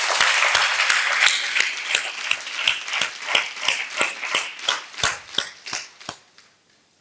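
Church congregation at a Sunday service clapping together in a steady, rhythmic beat, loud at first and then thinning out and fading to silence near the end.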